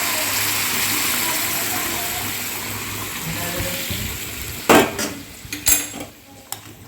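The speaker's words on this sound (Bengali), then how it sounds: "এই যে এখানে জল আমি দিয়ে দিচ্ছি" Chicken and potato curry sizzles steadily in a pan until hot water is poured in, setting off sudden loud bursts of hissing and splashing, with a clink or two, before the sound settles lower.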